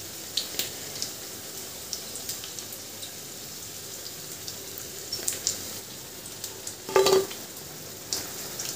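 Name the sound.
veg roll tikki frying in oil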